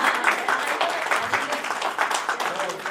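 Audience applause at a Hindi poetry festival session, a steady patter of many hands clapping at moderate loudness that continues throughout.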